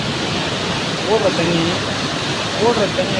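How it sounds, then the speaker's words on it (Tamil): Broad, steady rushing river water roars continuously through the Kallanai (Grand Anicut) stone dam in Tamil Nadu, India, with a voice speaking over it twice. "தண்ணி எவ்வளோ ஆர்ப்பரிச்சு போகுது."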